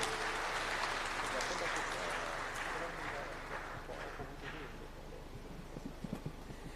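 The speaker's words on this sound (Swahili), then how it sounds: "Jamani, mjipigie makofi" An audience at the close of the TAIC 2023 grand finale breaks into broad applause, a dense wash of clapping that slowly fades and thins over several seconds, with faint voices underneath.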